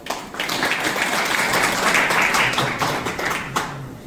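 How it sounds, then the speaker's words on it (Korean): Crowd applause at a calligraphy exhibition opening in a gallery, a full, steady clapping from many people that swells and continues throughout, with a few sharper individual claps standing out near the end. "큰 박수 부탁드립니다."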